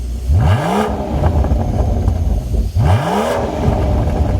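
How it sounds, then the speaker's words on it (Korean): A BMW G12 760Li with its V12 engine revs hard twice, each blip rising sharply in pitch and falling back, loud and close, with the engine running steadily between the revs. "자 그럼 악셀 한번 쳐보겠습니다"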